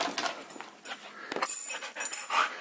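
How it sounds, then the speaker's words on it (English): An excited Siberian husky vocalizes indoors just before a walk, making restless, wavering whines and yelps in an irregular run of close, moderately loud cries. "I bet she'll howl."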